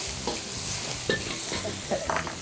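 Chili and garlic sizzle and crackle in a hot pan, with the scrape and clatter of a utensil stirring at irregular moments.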